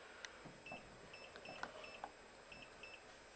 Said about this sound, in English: you hold down that for 2 seconds and it beeps